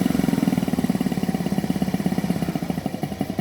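A piston compressor on a test rig runs with a rapid, even chugging pulse, loud and close, the beat quickening slightly as its speed is raised.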